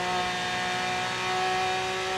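Bugatti Veyron at full throttle in Forza Horizon 3, a steady sustained engine drone with strong tonal harmonics holding constant for the whole stretch, loud and continuous with no talk over it.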